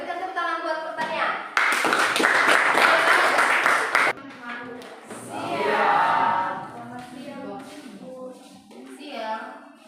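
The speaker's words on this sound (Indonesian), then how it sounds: "berikan tepuk tangan buat pertanian." A classroom of students applauds the agriculture group before its presentation, a burst of steady clapping lasting a couple of seconds, framed by teacher and student talk before and after.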